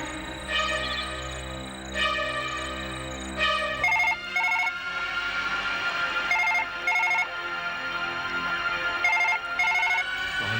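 A phone ringtone plays repeatedly, with tonal ringing bursts over a musical background, moderately loud and close.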